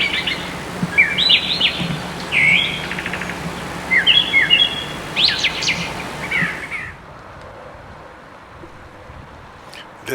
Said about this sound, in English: old folk name for this bird was the rain crow, and its call in the spring was just many different bird calls over and over again.